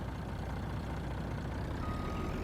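A truck engine runs steadily in a farming game on the Estancia Lapacho map, a constant low, droning hum at moderate volume with no clear revs or gear changes, heard alone.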